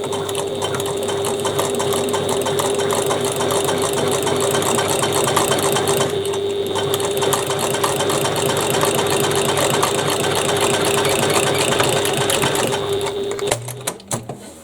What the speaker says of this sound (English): So there we've stitched both sides